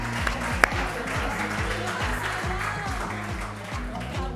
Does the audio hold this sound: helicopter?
no